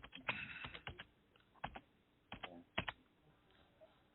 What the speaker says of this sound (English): Someone has a loud keyboard.